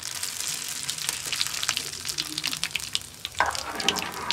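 Ajwain seeds fry in mustard oil over a low-to-medium flame with a close, crackling sizzle and light stirring clinks, joined by a faint running-water-like hiss throughout.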